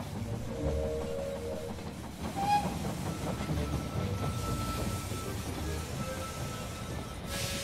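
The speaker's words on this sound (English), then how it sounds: "The train has arrived at the station." A train pulls into a station in the strategy game They Are Billions, a continuous low rumble with rhythmic wheel clatter and a short whistle-like tone partway through, no speech.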